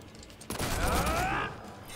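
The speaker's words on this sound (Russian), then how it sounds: "Первая спешл атака — это быстрая стрельба вниз" Deathstroke's rapid gunfire special attack in Injustice: Gods Among Us Ultimate Edition erupts as a sudden, loud, dense burst of shots lasting about a second, then cuts off abruptly.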